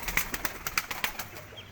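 Green pigeons at a rooftop loft give a string of soft, rhythmic coos with light wing flutters mixed in, moderately close and fairly quiet, with no talking.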